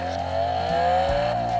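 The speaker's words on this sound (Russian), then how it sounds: "Вот уже машина поехала куда-то, звуки издает." A Bumblebee Transformer toy car plays electronic engine sounds after a button press, a short synthetic revving tone with rising pitch and stepped shifts, close and fairly loud with no talking.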